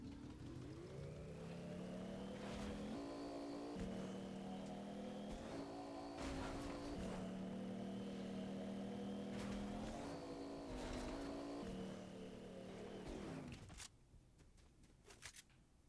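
A car's engine drones and revs through repeated gear changes, the pitch climbing and dropping in steps, heard steadily from inside the vehicle for about fourteen seconds before the engine note falls away to quieter road noise, with no talking.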